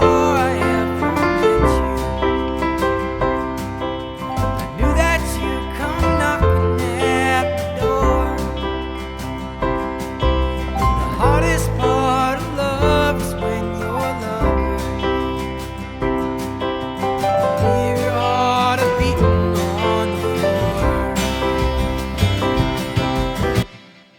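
Logic Pro 11 keyboard session player performing freely, with melodic fills and flowing chords on a piano-like keyboard, rich, steady and full for about twenty-four seconds with no speech.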